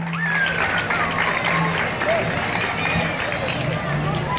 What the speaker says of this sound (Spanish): Un fuerte aplauso para que la reciben.